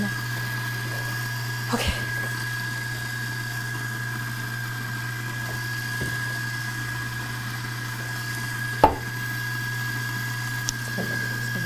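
Coffee grinder running at home, a steady low mechanical hum and whir continuing throughout, fairly faint, with a brief spoken word and a few small knocks.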